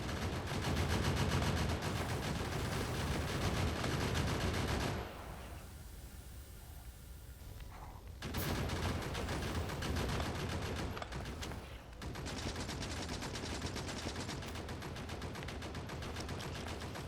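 Automated turrets in the factory-building game Factorio firing at a rock, a steady dense machine-gun rattle that drops out briefly midway and then resumes.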